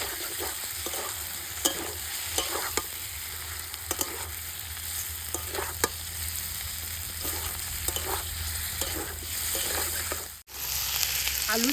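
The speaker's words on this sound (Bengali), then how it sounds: "যেহেতু ভেজে রাখা আলু বেশিক্ষণ ভাজবো না একটু ভেজে নেব" Pre-fried potatoes briefly frying in a pan, a continuous close hiss of sizzling oil with frequent light scrapes and taps of a spatula stirring through it, and one short break near the end.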